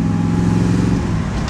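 Triumph TR8 with a 3.5 V8, Offenhauser 360 intake and Holley 390 carburetor, driving on a road test, its engine a loud steady drone heard from inside the car with constant road rumble.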